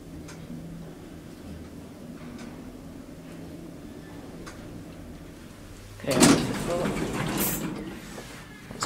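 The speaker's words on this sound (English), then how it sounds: "Door closed back and works, I like that." A Schindler elevator door slides shut in a building lobby, a close mechanical whoosh and rumble after several seconds of quiet hum.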